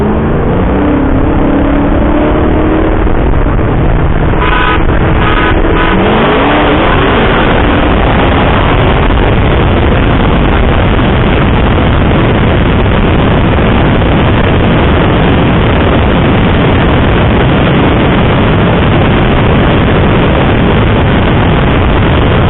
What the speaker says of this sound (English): Let's see how the Demon launches out on the C7 from a 20 roll.